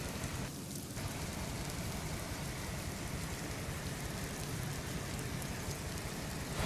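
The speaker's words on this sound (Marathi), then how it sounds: "पुण्यातच मुळशी भागामध्ये जोरदार पाऊस अजूनही सुरू आहे।" Heavy rain pours steadily in Mulshi, Pune, a dense, even hiss of downpour on surfaces with no break throughout.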